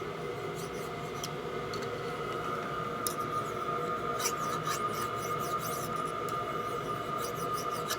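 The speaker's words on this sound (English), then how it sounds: "What are we doing here with that little file? Trying to see if I can find the burr." A small hand file rasps steadily at a burr on a part from a 1989 FXR 89ci S&S stroker Evo motorcycle engine, a quiet continuous scraping with a few sharper strokes near the end, under a constant background hum.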